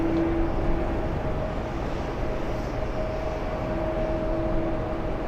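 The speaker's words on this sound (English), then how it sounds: "there goes JetBlue" A JetBlue airliner passes at a distance, a broad, steady low roar with a faint engine whine, fairly even in level from start to finish with no talking.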